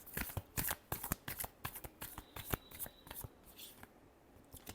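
Tarot cards being shuffled by hand in a steady run of quick, soft riffling flicks, close and quiet, with no voices.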